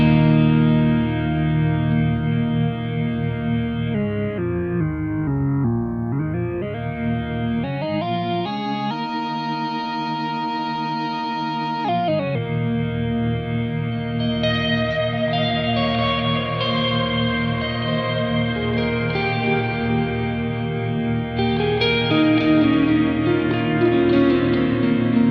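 Guitar fifths and octaves ring out through a Strymon NightSky reverb pedal, sustained chords washing into a thick, shimmering ambient tail that shifts and swells, played alone without talk.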